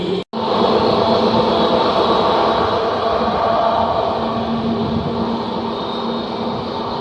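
Loud, continuous rumble of the Yercaud SF Express train in motion between Erode and Chennai, heard from inside with a steady roar and faint rattling throughout.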